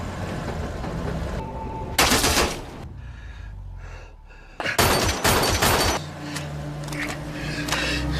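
Rapid bursts of gunfire crack out in several clusters, loud and close, with a quieter gap between volleys.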